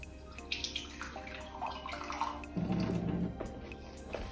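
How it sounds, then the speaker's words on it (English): Water running from a tap or poured in a thin stream into protein muffin batter of fruit and cherries, a quiet trickling that grows louder midway, faint background hum, no talking. "just a little bit more water in here"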